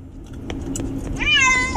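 Lily the cat lets out one long, rising then falling meow near the end, close and clear inside a car headed to the vet, with soft rumbling road noise and a few light knocks before it.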